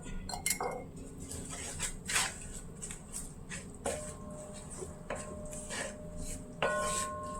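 Beef pickle masala is stirred in a pan, with a spoon scraping and clinking against the metal in irregular bursts and a faint sizzle underneath.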